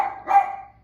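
A dog named Sawyer gives a short double bark, close and fairly loud, over in under a second with no talk.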